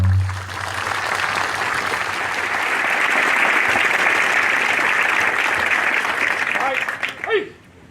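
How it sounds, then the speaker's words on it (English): At a military basic camp graduation ceremony, a crowd gives awardees a dense, sustained round of applause that swells and then fades, and a voice shouts briefly at the very end. "please join me in giving our awardees another big round of applause"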